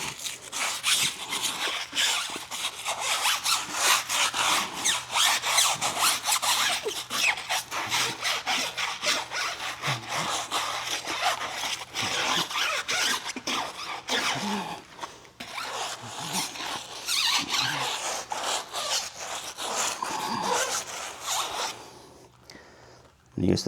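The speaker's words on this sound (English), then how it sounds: "hit tire with the shorter bristle scrub brush" A short-bristle scrub brush working over a car tire during a wash, fast rhythmic back-and-forth scrubbing strokes, loud and close, continuing steadily with a brief pause near the middle before ending.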